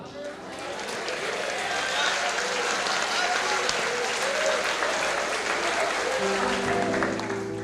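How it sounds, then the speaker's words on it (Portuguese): A church congregation applauds continuously with hands raised in praise, a dense, sustained roar of many clapping hands that holds steady throughout, with voices mixed in. "Mãos para cima, aplaudindo e glorificando."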